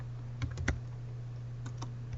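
A few scattered keystrokes on a computer keyboard while code is typed, quiet and close, with a steady low hum underneath.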